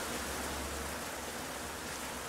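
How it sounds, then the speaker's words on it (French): Rain falls steadily during a church service in Abidjan, a dense, even hiss of downpour filling the space with no breaks and no voices. "Comme il pleut aussi"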